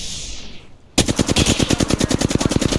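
Rapid automatic gunfire in Apex Legends bursts in after a second of quieter game ambience, a fast even string of about twenty loud, close shots running to the end.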